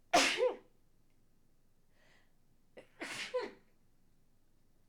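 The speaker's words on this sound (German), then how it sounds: "Muss niesen?" Two sneezes, the first loud and close near the start, a second burst about three seconds later, with quiet between them and no talk.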